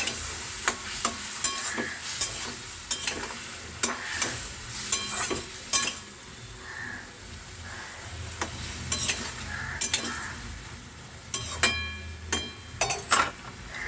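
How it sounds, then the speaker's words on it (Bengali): A spoon stirs mustard curry with strained mustard paste water in a pan, scraping with repeated clinks and soft sizzling bubbles in an irregular rhythm, close and moderately loud, with no talking. "ভালোভাবে নাড়াচাড়া করে নেবো"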